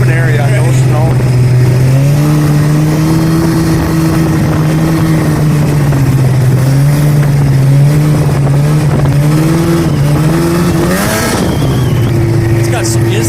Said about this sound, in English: It's got some instant throttle.